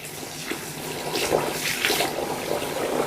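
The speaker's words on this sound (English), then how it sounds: "I'm going to be washing my rice with warm water." Warm running water pours over raw rice being washed for party jollof rice, a steady splashing flow with intermittent sloshing bursts, close and moderately loud, with no talking.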